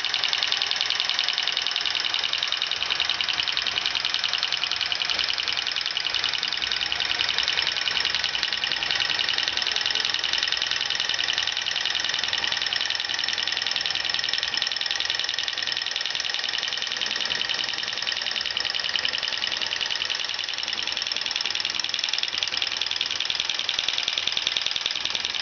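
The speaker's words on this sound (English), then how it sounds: "The fan is blowing air over the displacer cylinder." A small Stirling beam engine runs with a cooling fan blowing air over its displacer cylinder, giving a steady, even whirring hiss with faint mechanical rattling throughout and no pauses.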